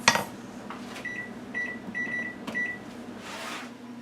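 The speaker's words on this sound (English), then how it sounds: "I'm going to set my alarm for 5 minutes" Several short electronic beeps sound in a quick series, like a timer being set, over faint room hum.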